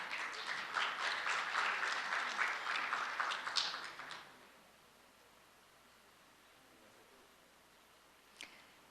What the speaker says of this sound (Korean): 여러분 큰 박수로 맞이해 주시길 바라겠습니다.